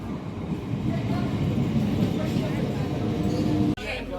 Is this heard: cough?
no